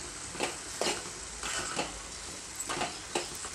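Tomato curry is being stirred in a pan, soft rhythmic scrapes and clacks of a spoon repeating every half second or so over a quiet, steady sizzle, with no one talking.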